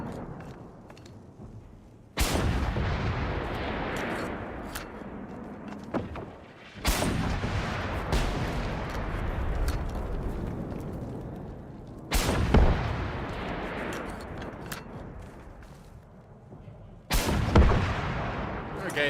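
Rocket explosions boom in the shooter game Generation Zero, four heavy blasts spaced about five seconds apart, each with a long rumbling decay, loud and close with a voice talking between them.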